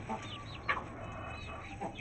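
Short, near clucks from a brown hen come in a few scattered bursts over steady low background noise, with one brief louder call in the middle.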